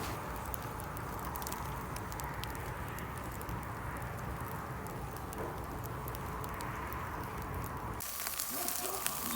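Charcoal barbecue fire crackles steadily while potatoes grill outdoors at a village, a constant dense sizzle and pop at moderate level, changing abruptly near the end.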